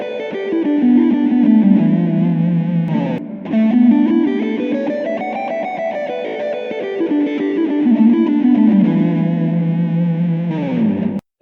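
Electric guitar run through distortion, chorus and echo effects plays a flowing Dorian-mode lead lick, notes sliding up and down continuously and loud with a brief dip near the middle, no talking.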